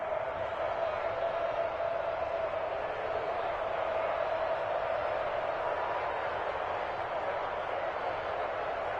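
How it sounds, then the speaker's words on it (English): A football stadium crowd roars in a sustained, even wall of cheering that fills the whole stretch, with a commentator's voice faintly under it. "this crowd rises to make things difficult"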